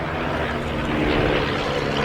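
A de Havilland Chipmunk T.10 propeller trainer flies past at an airshow, its piston engine and propeller producing a steady droning roar that swells slightly at mid-passage.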